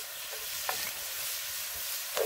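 Meat browning in a Dutch oven over a very hot open campfire gives a soft, steady sizzle, faint and continuous, broken by a few light clinks of stirring.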